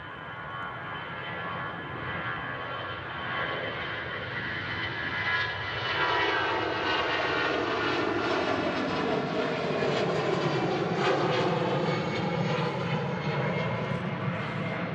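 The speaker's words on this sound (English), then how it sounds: "And EasyJet rolling on the main runway as well." An EasyJet jet airliner rolling on the main runway at Manchester Airport gives a sustained, swelling engine roar and whine heard from a distance, steadily growing louder across the span with no talking.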